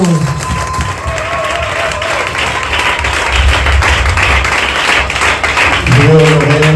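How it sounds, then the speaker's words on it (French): A church congregation breaks into sustained applause and cheering for a brother during a worship service, dense clapping filling the room at a steady level with musical tones underneath. "On va acclamer pour le frère."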